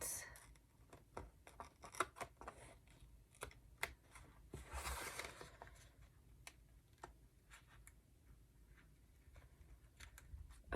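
Scissors trimming small pieces of washi tape on a journal spread, a quick series of crisp close snips at irregular intervals, fairly quiet, with a soft voice speaking now and then.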